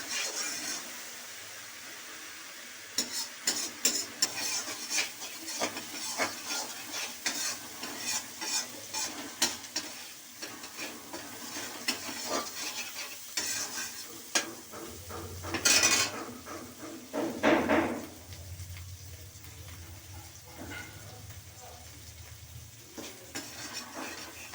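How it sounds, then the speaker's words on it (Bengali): A spice paste with ginger is sautéed on low heat with a utensil scraping and clinking against the pan in repeated bursts, over a soft sizzle, followed by a brief louder hiss near the end. "এটা একটু মশলাটা কম আঁচ করে কষে নেব, যাতে আদার গন্ধটা চলে যায়"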